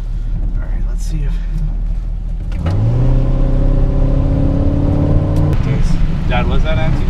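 A Mini Cooper shifted from neutral into drive and pulling away, the engine revving up with a rising steady drone that holds loud for a few seconds, then a shift; people talk over it at points.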